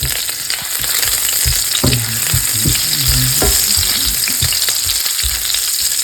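Curry leaves with green chillies, ginger and onion sizzle loudly in hot oil, a constant crackling hiss broken by the scrape and knock of a stirring spoon, with no one speaking.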